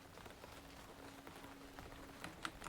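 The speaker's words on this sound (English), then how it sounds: "It's raining." Steady rainfall in the video game Throne and Liberty, a soft, even patter of drops on surfaces, faint and continuous with a few slightly louder taps near the end.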